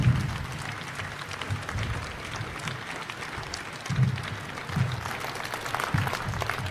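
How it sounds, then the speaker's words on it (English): An audience applauds candidates at a by-election debate, sustained clapping from a crowd in a hall with a few louder swells and faint voices mixed underneath. "please give these brave, brave candidates a round of applause"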